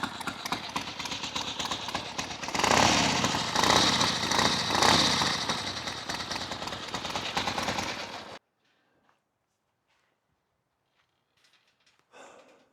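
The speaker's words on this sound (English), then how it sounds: "So I think baffles do make a difference, if not lower the decibels, but at least lower the tone of the bike, sharpness, the real cracking sound." Loud, rough engine roar from a motorcycle with drag pipes fitted with exhaust baffles, running steadily for about eight seconds before cutting off abruptly, leaving near silence with a brief faint noise at the end.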